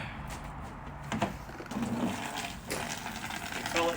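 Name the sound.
filling a gorilla bucket with water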